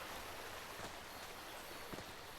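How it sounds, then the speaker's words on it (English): A babbling brook in the video game Call of the Sea, a steady close wash of trickling water with faint splashy accents throughout. "Maybe he likes the sound of the babbling brook."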